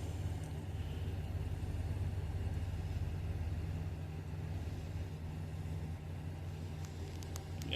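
A 2008 GM Sierra/Silverado pickup engine idles steadily after a rev, a low even rumble held at moderate level throughout, with a few faint clicks near the end.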